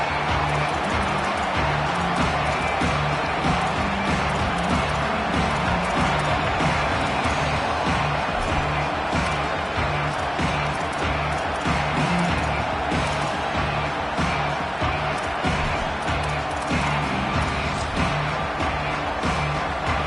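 Stadium crowd in an NCAA football video game roars in a steady, dense wash of cheering throughout, with no clear breaks, loud and continuous like a packed home stand.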